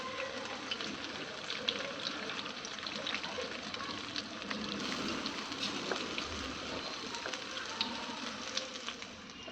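Stuffed okra fries in a pan of oil, giving off a soft, continuous crackling sizzle with scattered tiny pops, fairly quiet and steady throughout.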